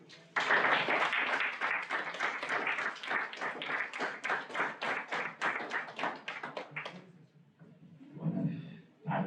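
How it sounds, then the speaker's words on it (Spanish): An audience in a lecture hall claps to welcome a visitor, a dense burst of applause lasting several seconds, then thinning into scattered claps before fading out. "Demos con un aplauso la bienvenida a nuestro visitante"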